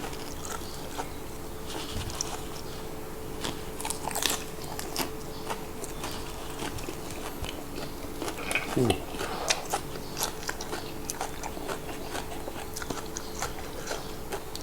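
Crisp vegetables being bitten and chewed alongside a meal of boiled apple snails, with soft, irregular crunching close to the microphone over a faint steady hum, and speech in between.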